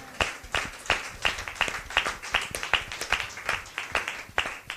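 A church congregation claps together for Sister Victoria, a steady run of fairly quiet, even claps at a brisk rhythm for a few seconds.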